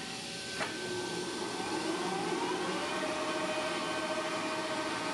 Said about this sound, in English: we're just facing down the heads of these bolts real quick